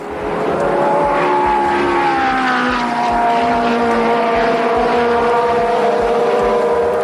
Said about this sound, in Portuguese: o barulho dos carros com motor Ford Cosworth passando no Nürburgring